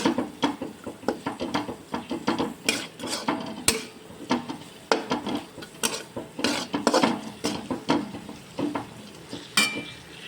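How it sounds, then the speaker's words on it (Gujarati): Mixed vegetables for noodles made from leftover rotis sizzle in a pan over medium gas, with a steady frying hiss broken by frequent spatula scrapes and clinks against the metal pan. "હવે બધા શાકભાજીને હું ગોલ્ડન બ્રાઉન સુધી કૂક કરી લઈશ ને મીડિયમ ગેસે આપણે શાકભાજીને કૂક કરવાનું છે"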